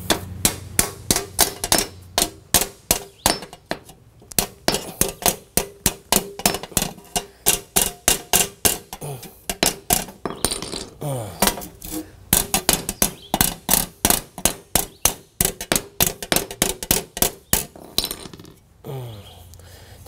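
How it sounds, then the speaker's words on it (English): A standard hammer strikes arcade cabinet sheet metal over and over, a long run of sharp, evenly paced metallic blows with a few brief pauses between strings of hits. "I'm just gonna take a standard hammer and see if we can straighten this out."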